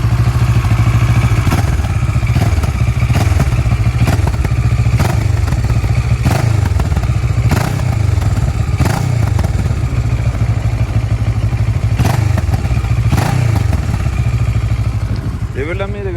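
An RKS SRV 700 motorcycle engine idles and revs steadily up close, with periodic thumps and clatter, a low throbbing rumble throughout.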